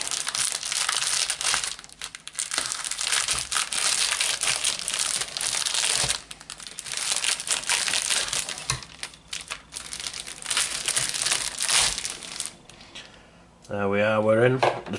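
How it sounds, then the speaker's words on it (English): Scissors cut open a Topps Match Attax SPFL 2019 card starter pack with rough crinkling and rustling of plastic wrapping, busy and close. Brief speech-like tones are heard near the end. "Let's get the scissors to this starter pack and see what we've got."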